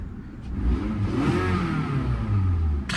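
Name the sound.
Toyota car engine revving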